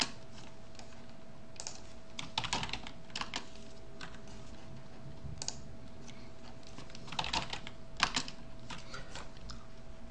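Typing on a computer keyboard while entering unit labels into a slide, heard as scattered bursts of clicking keystrokes with pauses between them, moderately close and alone without talk.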